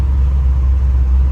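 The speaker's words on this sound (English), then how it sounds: "And I'm driving the truck again because this is" Slammed Chevrolet C10 pickup on the road, a loud, steady low engine rumble and drone heard from inside the cab, with no speech over it.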